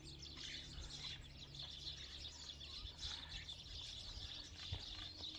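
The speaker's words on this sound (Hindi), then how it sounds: "बहुत सारी जो है ना चिड़िया यहाँ पे बैठी हुई हैं इस दरख्त के ऊपर और वो जो है ना बोल रही हैं" Many small birds chirp and twitter together from a tree in a village, a dense continuous chorus of overlapping calls held at steady volume throughout, with no voices.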